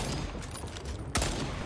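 Rapid game gunfire in the shooter Second Extinction, a dense burst of shots with a sharp louder crack near the end, heard up close with no talk.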